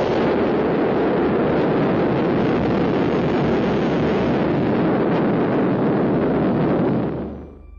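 Britain's 1952 atomic bomb test detonation in Australia comes through as a loud, sustained roaring blast rumble, steady for several seconds before fading out abruptly.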